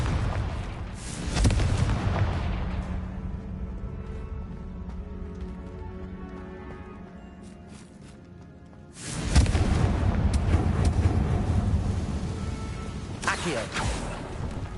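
A Confringo fire spell bursts in Hogwarts Legacy with loud booming blasts, one opening the clip and a heavier burst around the middle that rumbles on to the end, with game voices talking over it.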